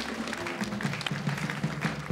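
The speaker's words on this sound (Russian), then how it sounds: "Саша, мы аплодируем тебе." A studio audience applauds a drummer on a televised lottery show, a steady wash of clapping at moderate volume across the whole stretch.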